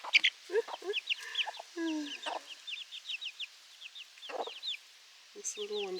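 Young rooster and hens clucking close by in a backyard flock, a busy string of short clucks and chirpy peeps in irregular bursts, with brief quiet gaps and a person speaking softly between them.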